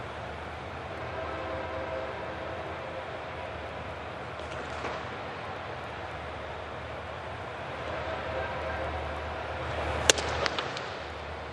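Trains rumble on tracks just outside a ballpark during a Dodgers vs Mariners game, a steady distant drone under crowd ambience, with a brief horn-like burst near the end.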